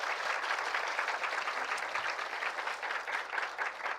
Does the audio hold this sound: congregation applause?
yes